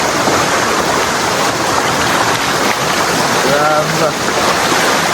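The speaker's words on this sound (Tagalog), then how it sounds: "Ilog pala talaga." River water flows in a steady, broadband rush that fills the scene without break, rough and close, with wind buffeting the microphone and voices talking briefly over it.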